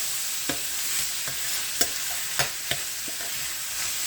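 A medium-sized zucchini sizzles in a hot pan for stuffed peppers, with a steady hiss broken by occasional scraping stirs of a utensil.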